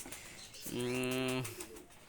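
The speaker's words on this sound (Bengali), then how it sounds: "দুইটা কবুতরই খুবই ভালো মানের কবুতর" Two Pakistani high-flyer pigeons, one sustained close coo rising out of quiet room noise, soft and steady for under a second before fading.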